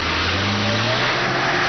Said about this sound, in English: We're here to test the astonishing acceleration of the new Renault 5 GT Turbo